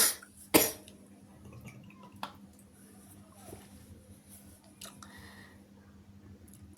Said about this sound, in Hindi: मुझे खांसी आ गई